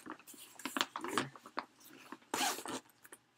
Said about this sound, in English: There's a zipper on the side here, and if you unzip it